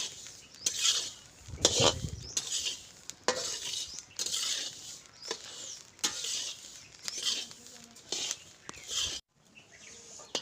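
Coriander seeds roasting with a little oil in a pan, repeated scraping stirs and clinks of a spoon against the pan over a faint sizzle, close by.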